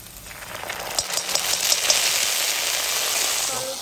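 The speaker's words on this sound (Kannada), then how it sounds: "ಎಣ್ಣೆ ಹಾಕಿ ಶುಂಠಿ ಬೆಳ್ಳುಳ್ಳಿ ಪೇಸ್ಟ್ ಸ್ವಲ್ಪ ಈರುಳ್ಳಿ ಹಾಕತೇನ್ರಿ. ಇದನ್ನು ಫ್ರೈ ಮಾಡ್ಕೋದು" Onion and ginger-garlic paste frying in hot oil for gobi manchurian produce a close, broad hissing sizzle that swells after a moment and then holds steady.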